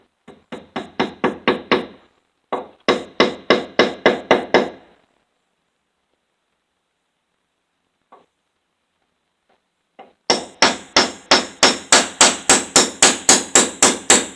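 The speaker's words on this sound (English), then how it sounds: "That allows you to drive that nail without hitting your window." A hammer drives a nail during a window installation with rapid, evenly spaced strikes in three bursts separated by a pause, each blow sharp and loud, the final burst the longest, with no talking.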